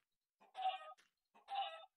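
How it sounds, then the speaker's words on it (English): Minecraft chicken clucking in two short, close bursts separated by a brief pause, clear and alone with no talk over it. "Oh, stupid chicken, what the hell are you doing in my house?"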